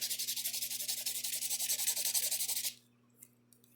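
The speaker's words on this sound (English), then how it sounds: "what I do after that is I buff it, and that'll get rid of all those little grooves that you see right there" A nail buffer scrubs rapidly back and forth over a freshly applied acrylic nail, making a close, rhythmic, raspy rubbing of about two strokes per second for under three seconds before stopping, followed by faint taps.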